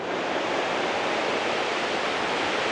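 Niagara Falls seen from a bridge on a cold day with ice on the ground, its roar a dense, unbroken wash of rushing water that stays loud and even throughout.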